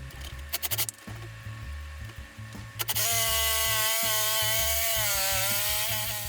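A Ryobi power tool cutting a curve into a wooden leg for a kitchen build, short bursts of cutting followed by a steady, loud whine of the tool running continuously, with no talk.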